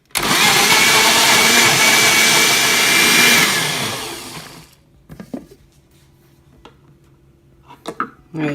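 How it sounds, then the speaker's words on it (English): A blender whizzes mango with kombucha in a steady loud roar for about four seconds, then stops, leaving quiet kitchen clatter and faint knocks. "then I'm going to put the two of them together and whiz them up"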